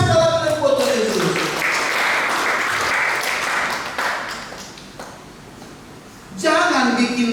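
A church congregation bursts into loud, sustained applause for several seconds, which then tapers off before a voice speaks.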